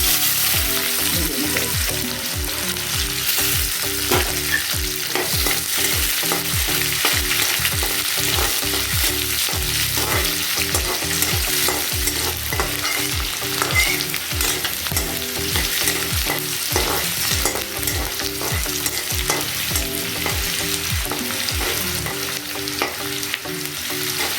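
Onion and bay leaf frying in a spoonful of oil for chana masala, a steady loud sizzle with regular stirring scrapes throughout, no voices.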